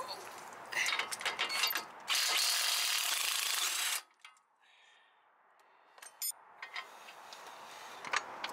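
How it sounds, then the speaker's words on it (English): Lower strut 24mm nut being removed on a 2004 Mercury Grand Marquis, with close bursts of loud mechanical whirring and rattling from a power tool, followed by quieter clicks and handling noises. "take off the lower strut 24mm nut."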